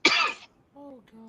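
A single harsh cough bursts out near and loud, then fades into a quiet gap before a voice starts talking.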